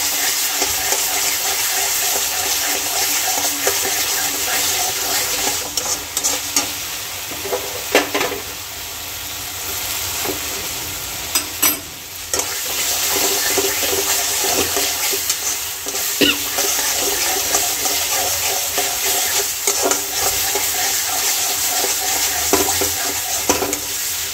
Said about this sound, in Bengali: পারফেক্ট কনসিস্টেন্সি দিয়ে এবার জল অ্যাড করবো